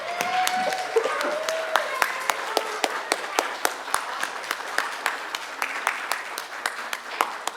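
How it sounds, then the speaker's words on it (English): A congregation at a church service breaks into steady, close applause, with dense overlapping claps continuing throughout and a brief tonal voice or sound near the start. "Shall we give them another round of applause?"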